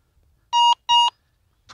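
A Minelab Go Find 11 metal detector gives two clear, loud, identical electronic beeps over a target outdoors, followed by a fainter short tone.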